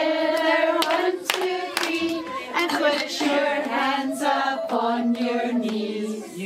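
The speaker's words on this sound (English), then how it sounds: "Clap your hands together, one, two, three" Hands clapping during a children's rhyme session at a library, several sharp claps spaced through a sung melody, with a voice singing over them.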